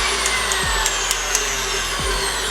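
A KitchenAid Artisan planetary stand mixer runs at its highest speed, giving a steady, close motor whir with faint periodic clicks throughout.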